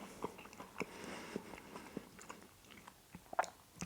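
Crispy fried squid with Cajun spices, bitten and chewed up close, giving a string of short, sharp crunches spread irregularly over a few seconds, with one louder crunch near the end.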